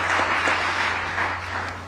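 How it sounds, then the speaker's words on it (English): A roomful of participants at an investors' conclave gives itself a round of applause, heard as a soft, blurred wash of clapping over a low steady hum, fading slightly toward the end. "a loud round of applause for yourselves"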